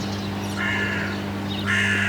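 Two raspy, drawn-out caws from a hooded crow, fairly close, over a steady low electrical hum; the crow builds its nest with wire.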